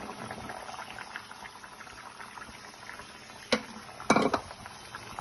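A tamarind fish curry with sesame and tomato simmers in a pot, bubbling softly and steadily up close, with a few sharper pops and splutters near the end and no speech.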